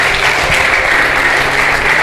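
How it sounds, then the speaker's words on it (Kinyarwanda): A congregation at a gospel service breaks into vigorous applause, a dense, steady wash of hand claps that stays loud and even throughout the short stretch. "Dukomere Imana amashyi"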